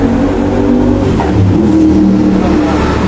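A Griffin 180i four-valve motorcycle engine running on the road, a loud continuous close engine drone with slight rises in revs and no talk.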